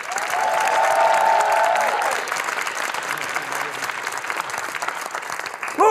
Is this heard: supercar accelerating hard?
no